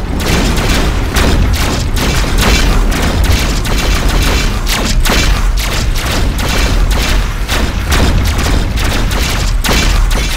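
Relentless rapid booming volleys from a spaceship's broadside cannons in Rebel Galaxy, loud dense thuds and blasts firing nonstop in quick irregular succession.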